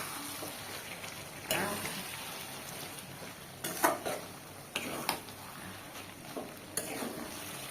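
Fish oil dish with coriander leaves frying in hot oil, a soft, low sizzle broken by a few sharp clinks and scrapes of a utensil against the pan.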